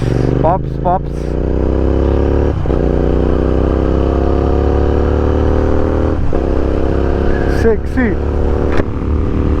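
A Royal Enfield Interceptor motorcycle being ridden on a road trip through South India near Vijayawada drones loudly and close, its engine pitch slowly rising under acceleration, with brief voices breaking in now and then.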